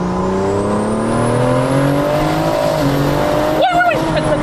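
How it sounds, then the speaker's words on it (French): A 1000 hp all-wheel-drive BMW M140i accelerates hard, its engine pitch climbing steadily through the gears with a thin high turbo whistle above it, loud and close from inside the car, ending in a brief tire chirp. "elle fait pas de bruit, mais t'entends que le turbo"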